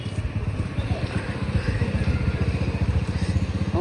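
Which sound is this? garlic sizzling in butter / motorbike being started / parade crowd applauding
motorbike being started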